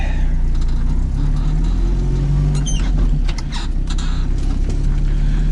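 A UAZ off-roader's engine runs with a low, steady mid-pitched drone as it pulls away on a country track, with some rattling and knocking laid over the constant rumble.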